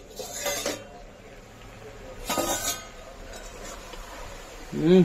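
A metal lid clinks as it is lifted off a cooking pot of mixed-vegetable curry in a home kitchen, with a few brief, fairly close metallic knocks and rattles spread over a few seconds.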